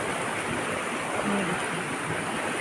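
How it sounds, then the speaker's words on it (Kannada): A river stream near a house in rural Karnataka rushes with a constant, loud broadband roar of flowing water, steady from start to end, with faint voices beneath. "ಇದು ನಮ್ಮನೆ ಹತ್ರ ಎಲ್ಲ ಹೊಳೆ ಇದೆಯಲ್ಲ ಅದೇ ಹೊಳೆನೇ"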